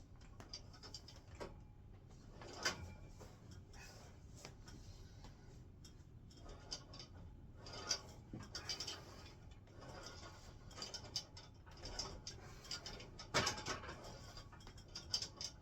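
A Body Power Compact S home gym machine in use for a triceps exercise, its mechanism clicking and ratcheting in irregular bursts over a faint background, with no talking.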